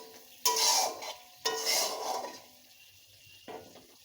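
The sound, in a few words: spice masala being sautéed and stirred in a pan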